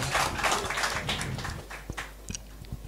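Audience at an Islamic culture talk claps, the applause thick at first and then thinning to scattered individual claps toward the end.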